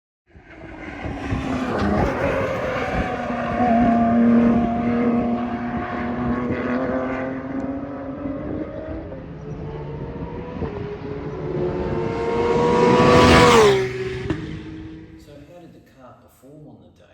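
Porsche Cup race cars at a racing circuit, engines droning with shifting, pitch-sliding tones as they run through a turn and echo around the track, swelling to a loud close pass before fading away.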